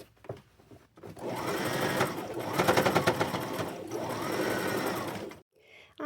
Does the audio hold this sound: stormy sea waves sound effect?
no